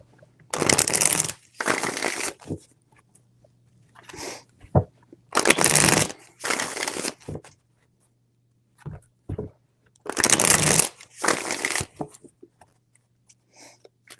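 Tarot cards being shuffled in bursts of crisp riffling, five or six rounds separated by brief pauses with small taps and handling noises between, close and fairly loud with a faint steady hum underneath.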